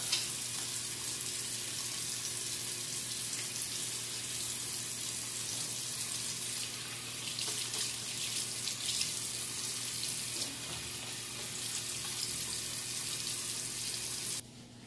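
Tap water runs steadily into a sink as ink is washed off hands, a constant close hiss of flowing water with slight shifts as the hands move under it, stopping just before the end.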